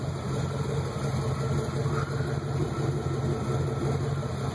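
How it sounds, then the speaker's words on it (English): A Chevy truck with a 355 engine idling steadily with a new Sunpro tachometer fitted, a continuous low, even rumble that holds throughout. "I got the motor running right now because I just put a new tachometer in it."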